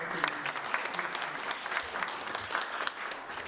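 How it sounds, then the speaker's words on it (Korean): An audience at a university scholarship certificate ceremony claps steadily and densely throughout, a full, sustained round of applause with no break. "여러분들 큰 박수 부탁드립니다."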